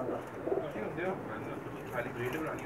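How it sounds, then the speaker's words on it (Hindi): Breeder pigeons on a rooftop loft cooing, soft repeated throaty coos in a loose rhythm, with a voice talking faintly over them. "ये इनके मेन कबूतर हैं जी।"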